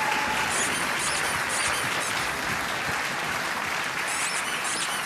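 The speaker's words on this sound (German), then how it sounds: "Applaus für das Urmel aus dem Eis!" Studio audience applause on a German TV show, a dense, steady wash of many hands clapping throughout, fairly even in loudness with no talk over it.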